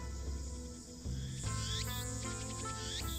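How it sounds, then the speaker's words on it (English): Cicadas chirping from trees at a shrine in the video game Steins;Gate, a continuous high buzzing drone layered with game music tones, steady and moderately loud throughout. "I can hear the chirping cicadas from the few trees growing here."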